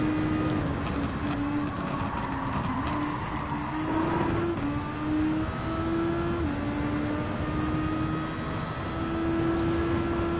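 Racing car engine in Gran Turismo 7 during a Super Formula race, a steady high engine drone with pitch stepping up through gear changes, continuous and loud with no talking.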